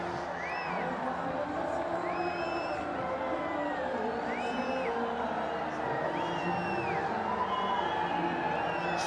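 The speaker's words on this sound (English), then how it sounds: "Fans cheering." Cricket fans in a stadium at a Shpageeza Cricket League match keep up a continuous crowd roar with scattered whoops and whistles that rise and fall, heard from a distance.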